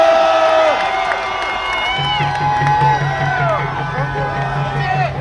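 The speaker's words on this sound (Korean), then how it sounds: "큰 박수 부탁드립니다." Students at a Korea University rally against impeachment cheer and clap for the next speaker. Loud crowd shouts and whoops rise and fall over scattered clapping, with voices throughout.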